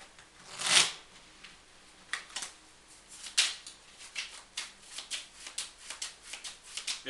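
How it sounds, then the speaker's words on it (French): A spectator shuffles a deck of playing cards during a magic trick, a sharp riffle burst followed by a series of quicker, softer riffles and card flicks, close and quiet with no talk. "Donc le spectateur mélange le jeu."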